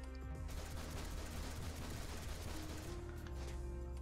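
Dual pistols fire in DC Universe Online as a fast, dense volley of faint, rapid shots running for several seconds against low background game sound.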